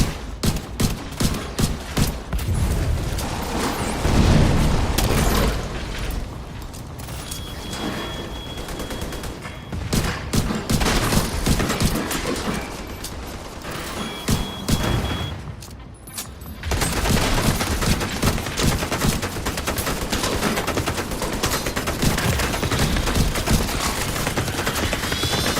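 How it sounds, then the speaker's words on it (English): Two miniguns fire together in a survival video game, a dense, continuous hail of rapid gunfire with heavy booming impacts. The burst runs almost without pause, briefly thins mid-way, then surges back loud and close. "I'm being shot at with 2 miniguns"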